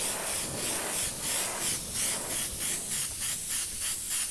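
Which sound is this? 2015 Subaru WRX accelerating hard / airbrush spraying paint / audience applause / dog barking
airbrush spraying paint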